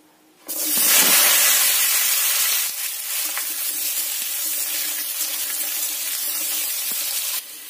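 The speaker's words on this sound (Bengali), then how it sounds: "যে আলুগুলো কেটে রেখেছিলাম আলুগুলো ওতে দিয়ে দেব ভাজার জন্য" Cut potatoes drop into hot mustard oil in a kadai, setting off a loud burst of sizzling that settles into a steady, bright frying hiss for several seconds, with no voices.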